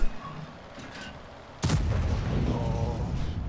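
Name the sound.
tank cannon fire in World of Tanks video game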